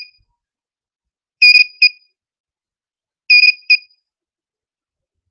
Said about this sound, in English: you can hear what the buzzer is doing